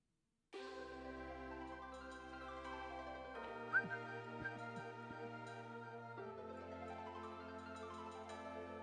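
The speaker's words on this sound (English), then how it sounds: "I've been told the whistling is annoying by a couple of people" A man whistles a sustained melody while drawing, clear tonal notes gliding up and down with a few brief louder pops midway, close and alone over near silence.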